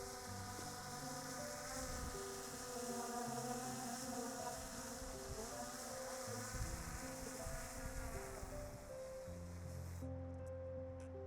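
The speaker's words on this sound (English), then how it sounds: "And I'm just bringing the drone down." A small camera drone hovers and descends beside Skógafoss waterfall in Iceland, its propellers giving off a steady, insect-like buzz whose pitch shifts as it settles, over a constant rush of falling water.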